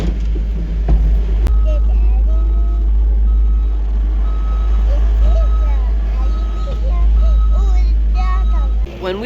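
A skid steer works a cattle barn alleyway clearing beef cattle manure, its engine droning steadily while a reversing alarm beeps repeatedly over the whole stretch.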